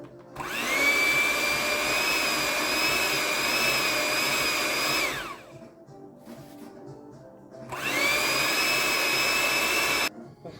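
Electric hand mixer beating cream cheese and confectioner's sugar, whirring loudly with a rising whine in two bursts separated by a short pause.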